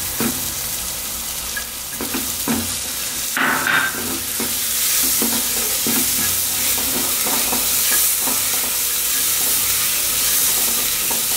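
Chopped onions frying in a pan for pav bhaji sizzle loudly and steadily, broken by repeated scraping stirs of a utensil against the metal, close up and with no one talking.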